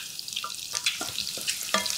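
Eggs fry in oil on a tava, a steady close sizzle with small crackles and a few scraping stirs.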